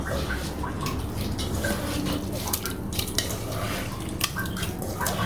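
Grated coconut being squeezed and mashed by hand in plain unheated water to press out coconut milk, giving steady wet squelching and dripping sounds close by, with no talk.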